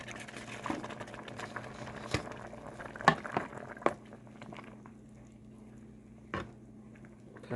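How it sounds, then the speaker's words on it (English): Broccoli and chicken casserole bubbling and sizzling in a pan, a steady low simmer with soft patter and a few brief clinks of utensils, fairly quiet and without talk. "We're going to let this cook a bit down."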